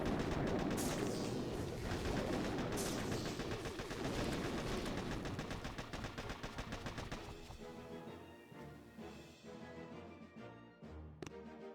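A rapid artillery barrage fired in a warship strategy video game, with dense, heavy repeated blasts crowding together at first, then thinning into scattered, fainter shots and rumbles.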